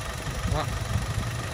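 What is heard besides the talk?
car engine idling after starting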